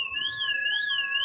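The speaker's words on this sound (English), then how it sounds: "you can hear the car alarms going off over by them." Car alarms wailing after a strike on the Crimean Bridge, a steady rising-and-falling electronic siren tone heard at a distance, alone with no talking.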